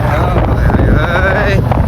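Strong wind at Dumas beach buffets the microphone with a loud, continuous, gusting roar that lasts the whole stretch.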